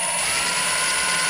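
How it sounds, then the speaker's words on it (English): A pneumatic impact gun hammers on an engine crank bolt during timing gear work, a loud, steady buzzing rattle running unbroken through the short burst. "Crank bolt, I'm gonna shoot it with the gun on 1 UGA"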